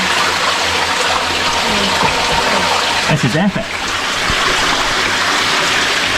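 An underground river rushing through a cave on Skye, a continuous loud gushing wash of water close by, with someone speaking briefly over it partway through.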